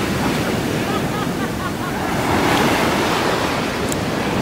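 Ocean surf washes onto a Puerto Rico beach in a steady, loud roar, with wind buffeting the microphone throughout and a faint voice briefly in the background.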